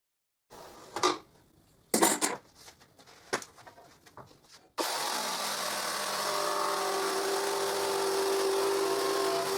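Loose knocks and clatter of handling a plywood rip fence jig give way to a circular saw that starts abruptly and runs as a loud, steady whining roar through the cut to the end.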